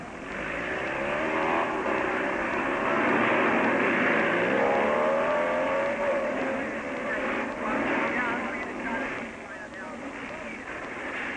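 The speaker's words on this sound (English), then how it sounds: "It doesn't take long for the first group to roar out" Loud, continuous roar of several racing motorcycle engines revving hard and surging away together from the start of a 1957 Catalina Grand Prix race, with rising and shifting engine tones over crowd-like background noise.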